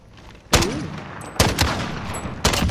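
Gunfire in the video game Call of Duty: Modern Warfare, three loud, sharp bursts of rapid shots spaced about a second apart over a steady background hum.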